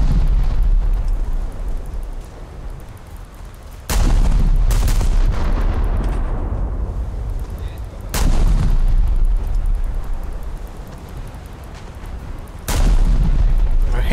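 Naval guns fire in War Thunder, three heavy booming salvos a few seconds apart. Each blast is loud and close and rolls off into a long fading rumble, with no voices.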